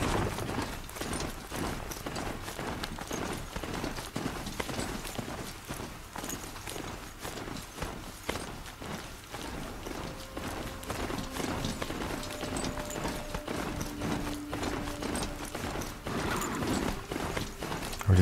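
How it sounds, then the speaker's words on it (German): Robot horse galloping in Horizon Zero Dawn, a rapid, steady run of mechanical hoofbeats with clanking, ratchet-like metal sounds, close and continuous, with a soft tonal music line entering partway through. "Und dieser Pferdeausritt hat gerade ein bisschen was von Red Dead Redemption."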